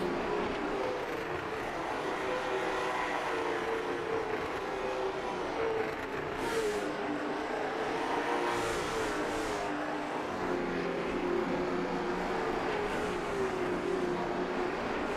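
Race cars roar continuously around the Hickory track at a throwback night short-track event, engines droning steadily with occasional louder passes, no talk over them.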